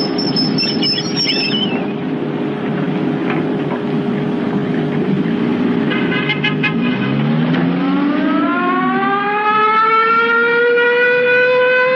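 A loud wailing siren, its pitch sliding down and then sweeping back up into a sustained rising tone, heard alone over a steady background rumble.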